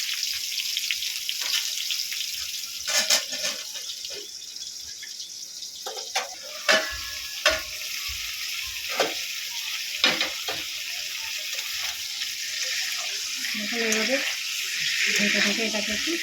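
Pointed gourd frying in a pan, a loud steady sizzle broken by scrapes and clatters of stirring, with brief splashy bursts near the end.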